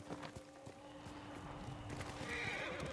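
A horse neighs and whinnies in the samurai action game Ghost of Tsushima, its call rising over clip-clopping hooves and a steady background drone, fairly faint overall.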